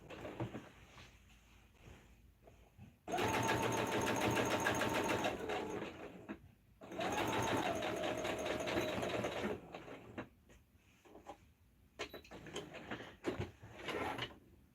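A sewing machine stitches around the distressed section of a pair of jeans in two long, steady runs of rapid needle chatter. Quieter handling of the fabric fills the pauses between them, and no one speaks.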